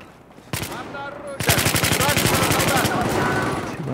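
Rapid automatic weapon fire in Battlefield 4 during a team deathmatch on Lancang Dam: a steady, loud stream of closely spaced shots rattling for about a second and a half, preceded by a sharp report and followed by lingering battle noise.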